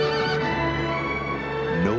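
A horse neighs in a Black Beauty movie trailer, a single drawn-out whinny heard over orchestral music rather than on its own.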